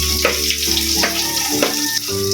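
Leftover rice fries in a pan with crushed garlic, skins still on, giving a steady loud sizzle and crackle with scraping stirs and small pops throughout.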